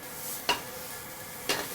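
Shallots and garlic with salt sautéing in a pan give a soft, steady sizzle, broken by two brief scraping stirs spaced about a second apart.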